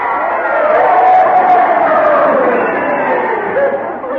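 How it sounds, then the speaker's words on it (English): A crowd cheering at a boxing grudge match in an old radio comedy, a loud sustained roar of many voices rising and swelling over several seconds, with talk mixed in. "You heard them cheering, didn't you?"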